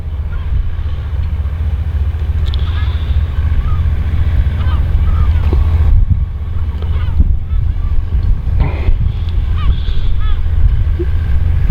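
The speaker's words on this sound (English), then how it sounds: "it's quite windy" Strong wind buffets a car on a road by a farm near Cullen, a steady low roar and rumble throughout, loud and close, with faint bird calls far off.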